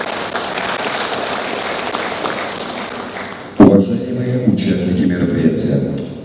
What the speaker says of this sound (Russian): Поддержите аплодисментами.